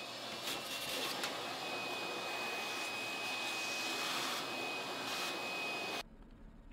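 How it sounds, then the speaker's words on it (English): A vacuum cleaner whines steadily as it sucks up dust from a Techno CNC router table in a school shop, loud and continuous before cutting off abruptly near the end. "Finish by thoroughly vacuuming all dust from the router table and work area."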